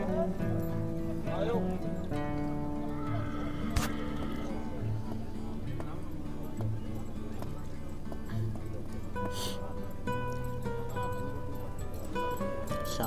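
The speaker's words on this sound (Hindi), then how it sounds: "शानदार घोड़ा" Stallions at the Muktsar horse fair in Punjab, with hooves clip-clopping at intervals under steady crowd chatter and background music; people talk close by throughout.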